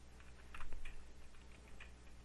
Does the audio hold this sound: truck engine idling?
no